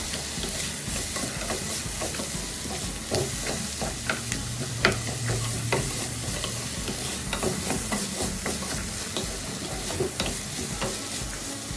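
Onions and cashews sauté in a pan for a paneer butter masala gravy, a steady close sizzle and crackle broken by repeated scraping stirs, with no talk over it.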